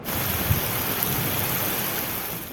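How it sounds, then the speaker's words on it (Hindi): Stormy rain in Islamabad, a dense steady downpour hissing evenly throughout with faint low rumbles, no voices. "सुबह सवेरे इस्लामाबाद में काले गहरे बादल छाए और तूफानी बारिश का सिलसिला शुरू हुआ।"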